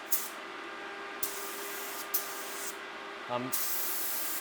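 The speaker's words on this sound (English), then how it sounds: "So I'm using the InoKraft gun." InoKraft spray paint gun with a 1.3 nozzle doing a test spray at about 25 PSI before painting a plastic bumper, giving short bursts of airy hiss separated by pauses, close and moderately loud, with a brief voice near the end.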